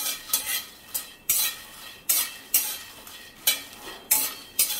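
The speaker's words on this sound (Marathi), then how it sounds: "थोडेसे असे खरपूस होईपर्यंत भाजून घेते मी मखाने" Makhana (fox nuts) being dry-roasted in a pan, stirred with a spoon in steady strokes, giving regular scraping, rattling bursts roughly every three-quarters of a second, close and clear with no talk.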